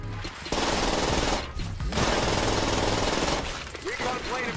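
Rapid automatic fire from an Uzi submachine gun in a video game, loud dense bursts nearly continuous with a brief gap, a short pause near the middle and a trailing burst at the end.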